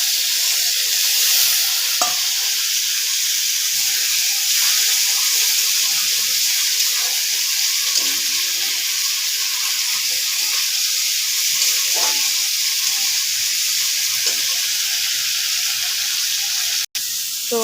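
Fried fish is cooked down with masala in a pan after a little water goes in, giving a steady loud sizzle and bubbling hiss with a few faint stirring scrapes.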